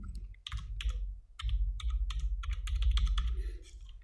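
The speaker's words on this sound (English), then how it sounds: "So hit F2 on the keyboard to rename and call it controller." Fast typing on a computer keyboard while a node is renamed in DaVinci Resolve: close, crisp key clicks come in quick bursts with short pauses between, over a low hum.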